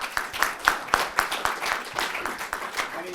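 Audience applause at a talk by an Olympic bronze medallist boxer: a room of people clapping in a steady, moderately loud patter of distinct hand claps for a few seconds.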